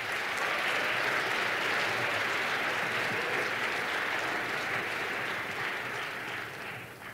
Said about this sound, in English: the NALC team, really deserves a round of applause